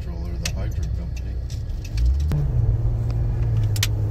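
A flood control truck rumbles past outdoors with a low engine roar that swells partway through and stays close, with small metallic clinks and voices talking over it.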